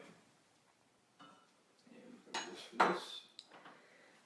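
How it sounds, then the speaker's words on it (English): A metal whisk clinks and scrapes against a pot in a brief burst, whisking arrowroot into boiling sauce, with quieter kitchen clatter before and after. "Want to whisk in our arrowroot?"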